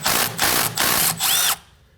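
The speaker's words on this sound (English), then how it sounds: "Using a 12mm socket, go ahead and take this bolt out." A ratchet on a 12mm socket loosens a bolt from a 2011-2016 Kia Optima front strut assembly, giving four bursts of rapid, close clicking with short pauses between them, then falling quiet.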